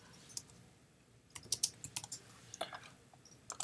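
Computer keyboard typing with scattered key clicks, faint at first and then coming in quicker bursts over a quiet background.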